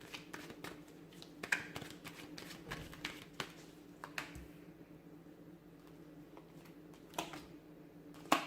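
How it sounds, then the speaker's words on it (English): Tarot cards being shuffled by hand, a quiet run of soft riffling taps and flutters repeating irregularly, close up and faint, with no talking. "I'm going to give the cards a shuffle"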